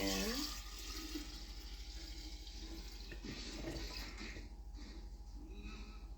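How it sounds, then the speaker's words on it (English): Sweetened tea poured into a jar already holding a kombucha SCOBY, a steady liquid splashing and trickling close by for several seconds, indoors in a quiet room. "I'm just gonna pour this tea"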